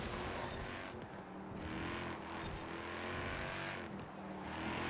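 Audi RS 3 LMS TCR front-wheel-drive touring car in the Forza Horizon 4 racing game: a continuous engine drone held at steady revs with slight swells, faint and unbroken throughout.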